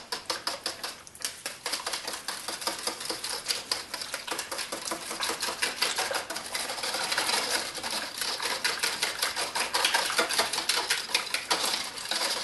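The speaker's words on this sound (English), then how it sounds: "so let's whisk that together" Rapid whisking of homemade pumpkin pie filling with condensed milk in a bowl, a dense, steady clatter of the whisk against the bowl running continuously and fairly loud, with no talking.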